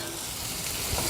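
Onion and garlic sautéing in garlic-cheese butter in a pan, a steady close crackling sizzle throughout.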